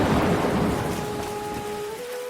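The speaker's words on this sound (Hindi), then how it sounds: "जोरदार बिजली के साथ जोर जोर से बारिश होने लगा" Heavy rain pours steadily through the night in a village during a thunderstorm, a dense, loud hiss with low rumbling thunder underneath and no voices.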